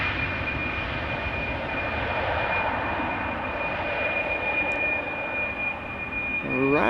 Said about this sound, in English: is that the triple we are hearing? I don't see any other airplanes nearby that might be causing that engine sound.